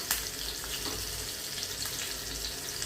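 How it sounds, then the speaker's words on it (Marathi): Green chillies and cumin seeds crackle in hot ghee for a tempering, a continuous close frying hiss dotted with small pops, with no voices. "आता हे फोडणी आपली छान तडतडली, जिरे छान झालेत."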